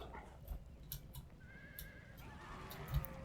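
Horses whinny and neigh faintly amid muffled battle noise in the game Empire: Total War, with a few soft hoof thuds and scattered clicks in the background.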